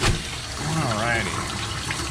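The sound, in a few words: hot water running to rinse tie-dye shirt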